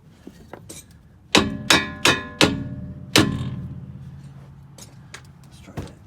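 A hammer strikes metal during a rusted rear upper control arm repair on a 2006 Chevy Malibu, with five loud ringing clangs in quick succession, each decaying briefly, followed by faint workshop noise.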